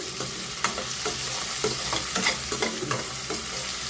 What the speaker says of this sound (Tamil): இப்போது இதோட நான் ஒரு கைப்பிடி கோவக்காய் சேர்த்துக்கிறேன், நீளமாக நறுக்குனது.